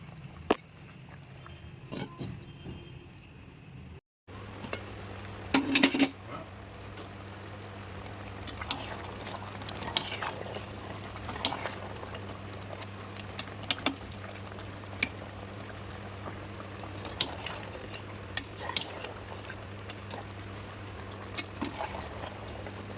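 Tomato pickle cooks in a pan on low heat, giving a continuous soft bubbling and sputter with repeated scrapes and taps of stirring, after a brief gap near the start.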